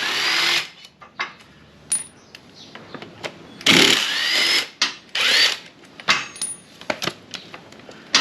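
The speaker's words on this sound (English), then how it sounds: "TX45 spline socket. And we'll just swap these brake calipers off." A power tool drives a TX45 spline socket to remove the front brake calipers on a KTM 1290 motorcycle, giving repeated loud whirring bursts separated by short pauses and a few metallic clinks.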